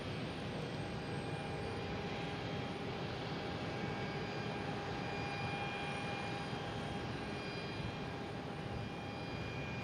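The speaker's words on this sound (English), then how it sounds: "Next taking off is Delta and A321 heading to Orlando" A Delta Airbus A321 takes off at Boston Logan International Airport, its engines producing a steady, loud broadband roar with sustained tonal whine, continuous throughout without talk.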